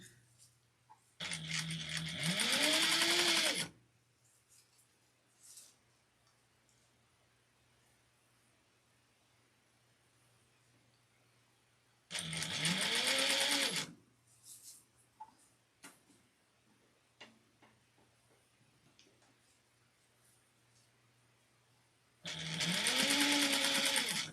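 A sewing machine stitches apron fabric in three loud, close bursts of rapid whirring, each a few seconds long, with quiet handling clicks and rustles between them.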